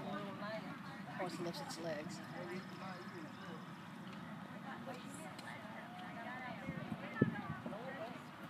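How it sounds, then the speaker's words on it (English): Rhythmic clip-clop of hooves from several horses trotting in a judged dressage class, steady and continuous, mixed with crowd murmur and a voice talking over it. "Trot your horse. Show your horses at the trot."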